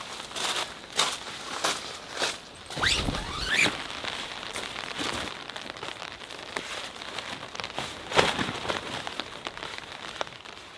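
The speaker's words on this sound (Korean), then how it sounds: "그래도 빗소리는 너무 좋아요." Rain patters steadily on a solo campsite near Seoul, with a dense, close crackle of drops on surfaces and occasional louder splats.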